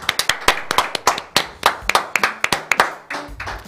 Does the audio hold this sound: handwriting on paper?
no